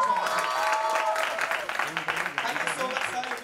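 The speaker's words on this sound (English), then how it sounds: "Can we have a huge round of applause, ladies and gentlemen?" Audience at a college annual festival in Mithibai College claps for a guest actor, a dense burst of applause that gradually thins and becomes choppier, heard close with crowd noise throughout.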